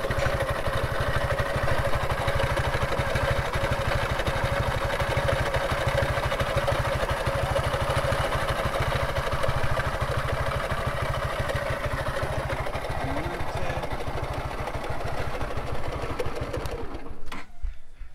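A Suzuki Gixxer Fi ABS motorcycle engine idles steadily nearby, a fast, even chugging that continues throughout before cutting out at the very end.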